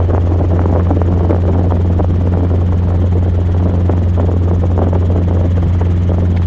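A Robinson R22 helicopter roars loudly and steadily during a flight lesson, its engine drone and rotor thrum constant and close with no pauses or talk over it.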